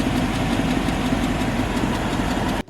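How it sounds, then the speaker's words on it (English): A Ford 5.0 Coyote V8 idles steadily and loudly, its continuous rumble laced with a faint, rapid typewriter-like ticking throughout. "First up, as you heard, is the typewriter tick."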